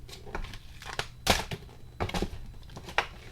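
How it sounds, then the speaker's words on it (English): Packing material crumpled by hand in short, crackly bursts, loud and close, with brief pauses between handfuls; no talking. "keep crumpling this up"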